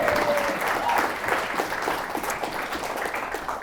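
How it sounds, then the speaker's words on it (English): Wedding guests break into steady applause at a reception, a dense wash of clapping that holds evenly for several seconds with some background crowd murmur. "Give him a round of applause."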